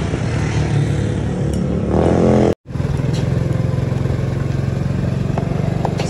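A Honda CB150F motorcycle engine hums steadily while riding, a loud, even, close drone with a rapid pulse; it cuts out for a moment partway through, then resumes just as strongly.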